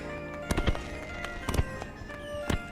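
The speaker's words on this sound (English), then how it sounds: "A series of loud, explosive bangs split through the night air." Several sharp fireworks explode in the night sky, loud broadband bangs arriving in small clusters with short gaps between them, over a low steady crowd murmur.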